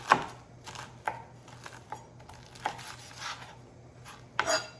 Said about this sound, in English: just chop up your bacon